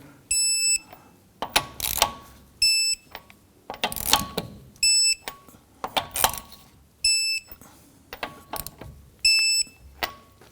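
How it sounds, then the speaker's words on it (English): A torque wrench tightens the lug nuts on a 2017-2020 Hyundai Elantra to 85 foot-pounds, with repeated close ratcheting bursts broken by short, high electronic beeps in an irregular rhythm and no talking. "Torque down your lug nuts to 85 foot-pounds."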